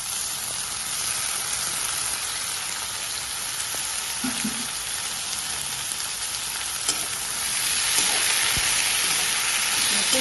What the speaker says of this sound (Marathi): बटाटे वरती साल काढली बारीक कापले धुतले आणि चाळणीत काढले आता याच्यात टाकून द्या